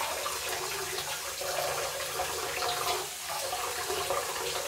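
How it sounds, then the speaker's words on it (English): Hot water runs from a bathroom sink tap over a razor being warmed before a shave, a steady, moderately close rush of running water with no talking. "let's go ahead and get some hot water underneath there"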